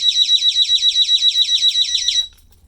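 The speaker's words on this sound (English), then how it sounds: "if you start messing with the lock, it's going to give you some warning beeps." An ABUS 440A bike U-lock alarm sounds a rapid string of loud, shrill electronic beeps in a steady pulsing rhythm, close by, then cuts off abruptly.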